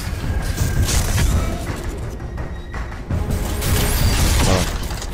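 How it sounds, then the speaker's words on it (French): Explosion sound effect from an animated intro built in Cinema 4D and After Effects, a dense continuous roar of booming rumble with crashing, shattering debris that swells again near the end, loud and alone without talk. "ça démarre directement avec l'explosion en fait"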